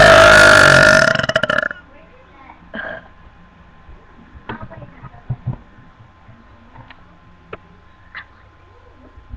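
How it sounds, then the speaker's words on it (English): A loud, drawn-out burp during a burp contest bursts out right at the start and lasts over a second. Faint scattered clicks and small sounds follow in a quiet room. "I gotta wait for this burp to get out of my stomach."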